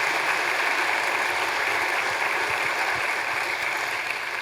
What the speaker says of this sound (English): a round of applause for John and his team